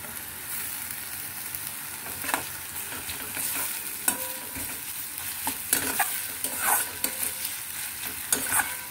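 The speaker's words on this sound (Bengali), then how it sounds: "পেঁয়াজ দিয়ে আবার এটাকে নাড়াচাড়া করব" Onions and spice paste stirred and frying in a pan for Bengali doi katla, a steady close sizzle broken by repeated scraping stirs and spoon clinks, with no voices.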